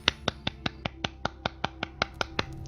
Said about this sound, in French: C'est moi qui applaudis, mais j'espère pas applaudir trop fort.